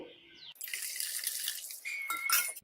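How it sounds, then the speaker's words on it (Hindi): Brewed tea being strained and poured into cold water for lemon and mint iced tea, a steady splashing liquid pour that runs nearly unbroken for a couple of seconds and ends in a brief louder burst of trickling. "इसको अब ठंडे पानी में मिक्स कर लेंगे।"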